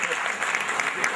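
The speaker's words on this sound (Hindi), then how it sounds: "तालियां बजाइए।" Applause from an audience at an evening public gathering, a brief dense burst of clapping at moderate level, heard close.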